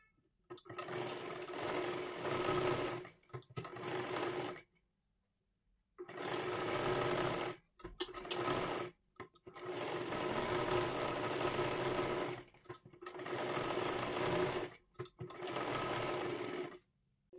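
A sewing machine stitches blouse pieces together in long, steady whirring runs broken by short pauses, close and clear, with no talk.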